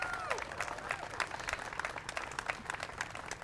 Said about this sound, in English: Let's give it another round of applause to our county staff.